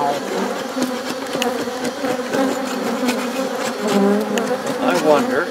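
Swarm of agitated honey bees at an open hive: a dense, continuous buzzing drone up close, rising and falling in intensity, with faint voice at times.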